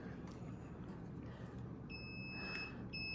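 A multimeter's continuity beep rings out while testing a wire disconnected at its connector in an Electrolux speed oven with no power. A steady, fairly quiet electronic tone sounds over low background hum during the last part of the clip.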